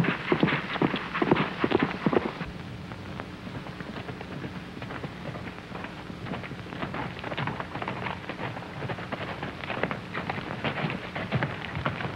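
Horse hooves clip-clopping in a fast, irregular rhythm, with heavier pounding at first, then a steady patter over a faint background hiss.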